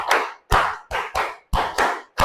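A class of pupils clapping in unison in a classroom, loud close bursts of claps grouped in short rhythmic sets with brief pauses between them, no talking.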